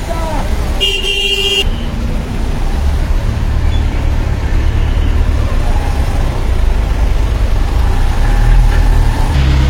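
A car climbing a mountain road in first gear on the way from Sukhiapokhri to Darjeeling gives a loud, continuous engine drone with a short horn toot near the start and people talking nearby.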